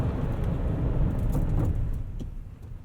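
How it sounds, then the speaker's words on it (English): A 2020 Toyota Tundra TRD Pro CrewMax with a 5.7L V8 brakes hard, a loud, low road and tire rumble from inside the cab that tapers off as it slows. "Let's do a braking test."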